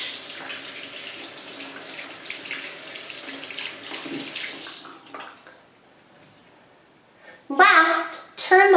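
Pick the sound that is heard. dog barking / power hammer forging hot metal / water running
water running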